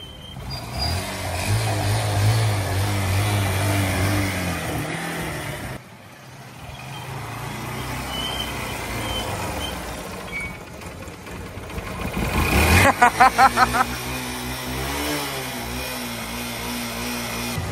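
A car engine runs in neutral with a steady, rumbling idle that dips briefly, then climbs as the revs rise toward the end, adding a rattling, pulsing edge.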